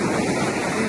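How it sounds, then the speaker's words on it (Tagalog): Continuous roar of successive open-sea waves washing onto a beach, loud and close with wind buffeting the microphone and no voices. "bahagi na raw ng karakter ng dagat dito ang sunod-sunod na mga alon"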